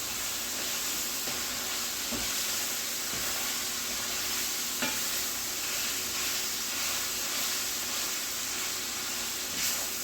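Ground beef browns in a pan for a steakhouse-style sloppy joe, giving a steady, dense sizzle and hiss throughout, with a few faint clicks and stirring scrapes and no talking.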